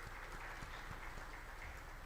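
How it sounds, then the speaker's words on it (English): A symposium audience applauds with a dense, even wash of clapping, steady and somewhat distant at low level, with no voices standing out. "Let us just give him another round of applause"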